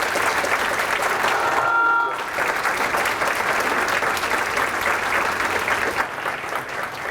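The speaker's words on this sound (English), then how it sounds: "Please give Chef David Burke the biggest round of applause" Sustained audience applause greets Chef David Burke at a cooking demonstration in Providence, steady dense clapping that briefly dips in the middle then continues loud and unbroken to the end.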